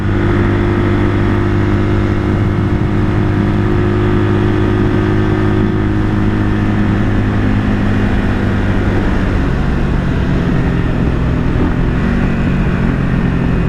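A 1978 Kawasaki KL 250 motorcycle, freshly rebuilt, drones along steadily at cruising speed, its engine hum loud and continuous with a vibrating low rumble and no voices.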